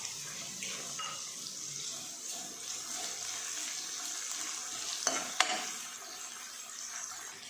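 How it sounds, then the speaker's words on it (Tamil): Tomatoes and onions sauté in a pan for a drumstick coconut-milk kuzhambu, a soft, continuous sizzle with stirring scrapes and two sharp utensil clinks near the end, no talking. "இப்போ தக்காளி வெங்காயம் நல்லா வதங்கிடுச்சு."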